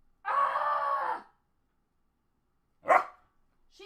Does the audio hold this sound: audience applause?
no